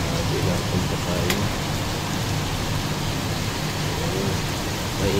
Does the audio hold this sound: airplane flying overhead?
no